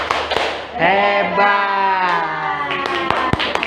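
A group finishes the Indonesian tepuk jempol thumb-clapping game at a school dissemination session: a long, drawn-out shout by several voices, followed by a few sharp, closely spaced claps.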